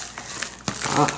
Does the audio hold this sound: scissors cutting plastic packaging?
yes